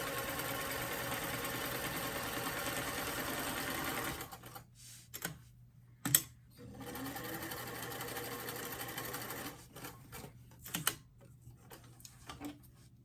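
A sewing machine runs continuously for about four seconds while stitching a doll dress seam, then stops, leaving soft handling clicks and a faint hum.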